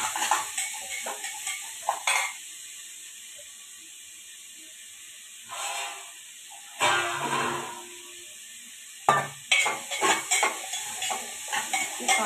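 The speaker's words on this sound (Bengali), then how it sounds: "মুড়ি খাবার তরকারিটা চাপিয়ে দিই" A curry for eating with puffed rice cooks in a pan: bursts of scraping spatula stirring and sizzling come close by, separated by quieter stretches with a steady hiss.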